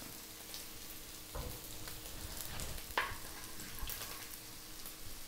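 Chicken and garlic frying in a little oil for Filipino-style chicken fried rice, giving a steady, soft sizzle with a few faint scraping stir sounds.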